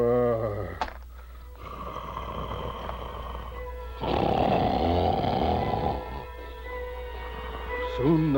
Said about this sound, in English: the castle trembled with his snores